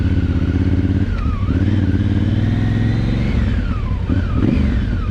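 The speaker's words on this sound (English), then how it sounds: "I love the sound of this Africa Twin." A Honda Africa Twin motorcycle engine runs close by with a rumbling idle, then revs up and down in several swells, the pitch rising and falling as the throttle opens and closes.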